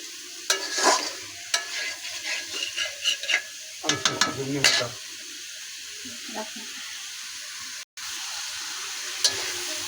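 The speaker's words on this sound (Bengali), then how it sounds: "ভাজা ভাজা হয়ে গেছে" Shrimp sizzle and fry in a pan while a utensil scrapes and stirs in irregular bursts, loud and close, with quieter frying hiss between the strokes.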